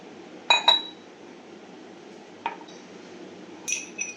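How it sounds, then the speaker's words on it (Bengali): A metal spoon clinks against a glass while adding water for coffee: a sharp double clink, a single tap a couple of seconds later, then a brighter ring near the end, all close and clear in a quiet room. "এবার একটু জল এই চামচটা করেই দিয়ে দিই"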